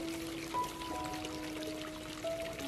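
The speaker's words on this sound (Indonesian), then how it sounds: "Anggrek kita siram terus selama 1-2 menit hingga air sudah mengalir" Water poured over an orchid potted in sphagnum moss and flowing down through the pot makes a soft, steady trickle, fairly faint and continuous, with a thin tonal hum in the background and no talking.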